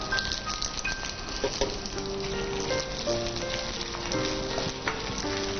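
Fresh curry leaves, alongside coconut pieces, crackle and sizzle loudly in hot oil, a steady close frying hiss with scattered pops and no voices.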